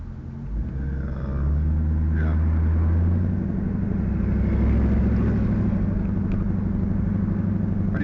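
A Chevrolet Corvette C4, a light car, driven on the road with a steady low engine rumble and drone that swells as it gets under way, close and prominent, and someone talks over it.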